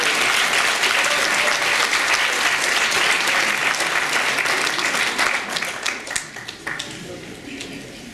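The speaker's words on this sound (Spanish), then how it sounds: "Démosle un fuerte aplauso a nuestro ponente de esta mañana." An audience at a national symposium on legal argumentation and criminal policy breaks into loud, dense applause for the morning's speaker, sustained for several seconds before thinning out and fading near the end.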